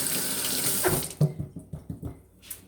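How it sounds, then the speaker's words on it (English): Water runs from a kitchen tap as hands are rinsed under the stream while straining homemade kombucha, a steady splashing flow that breaks into a few uneven spatters and drips near the end. "I'm going to rinse my hands real quick."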